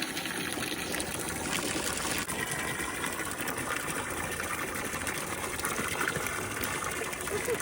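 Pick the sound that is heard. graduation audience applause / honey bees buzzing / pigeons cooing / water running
water running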